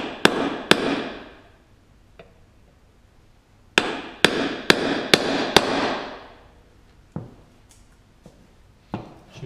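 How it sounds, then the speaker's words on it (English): A hammer lightly taps a new wheel bearing seal into the front hub of a classic Ford Mustang, with sharp close metallic knocks coming singly and in quick clusters between pauses, and no talk. "And then we're just gonna lightly tap her in."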